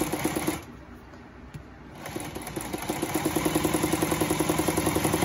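A Consew 146 zig zag walking foot sewing machine starts after a short pause and stitches with a quick, regular mechanical clatter that grows steadier, close by and alone.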